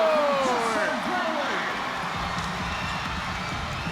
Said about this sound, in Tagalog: And listen to this crowd roar!